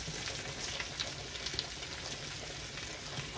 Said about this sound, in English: to that bacon grease, we're going to add those onions and that cabbage